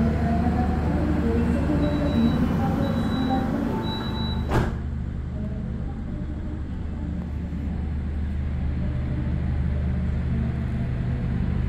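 The KA Fajar Utama Solo executive passenger train runs along the track with a steady loud low rumble, a few faint whining tones and one brief sharp clack partway through.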